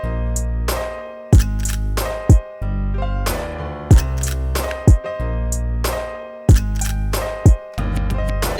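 Deep bass notes from a dark trap-style beat built in FL Studio, four basic notes booming low in sustained phrases, punctuated by sharp clicky percussive hits between them.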